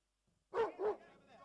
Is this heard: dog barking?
yes